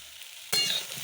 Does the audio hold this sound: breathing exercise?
no